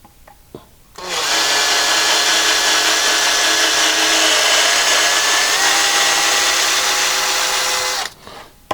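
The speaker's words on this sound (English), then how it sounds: "New second-hand drill, by the way." A second-hand power drill whines at a steady high pitch for about seven seconds close by, drilling a guitar body, starting and stopping abruptly, with faint clicks before it starts.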